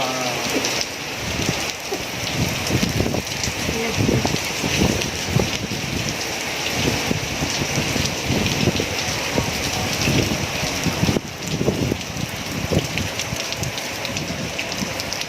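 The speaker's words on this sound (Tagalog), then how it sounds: "sobrang lakas ng ulan" Heavy rain pours down in a dense, continuous hiss, loud and close, with no talking.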